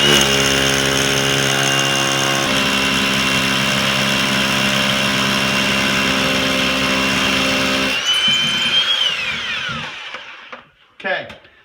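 A Hilti hammer drill bores through a concrete house foundation with a loud, steady grinding roar, then breaks through to the soil beneath and winds down with sputtering bursts as it stops.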